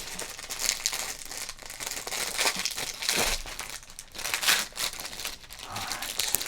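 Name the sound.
crinkling wrapper of a 1988 Topps card pack being opened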